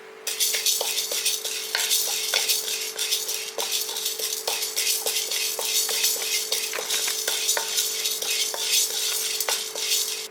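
Toor dal and chana dal dry-roasting together in a pan alongside Kashmiri dried chillies, with a spoon stirring steadily and tapping the metal in a regular rhythm over a constant dry rattle and hiss, close and fairly loud.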